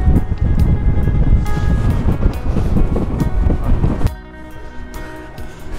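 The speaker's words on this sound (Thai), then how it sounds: "อันนี้คือทะเลเด้อพวกเจ้าอันทะเลตัวนี้" Sea waves wash against a shore in an Italian neighbourhood in the USA while steady wind buffets the microphone, a loud continuous roar that drops off and thins near the end, with no talk.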